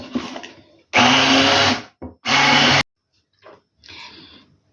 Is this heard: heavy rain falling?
no